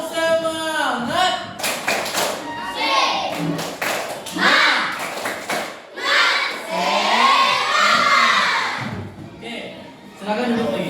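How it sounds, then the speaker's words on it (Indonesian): Schoolchildren in a classroom perform a rhythmic spirit clap together, with bursts of sharp claps and taps mixed with children's shouting and voices, fairly close and loud throughout. "Tepuk semangat."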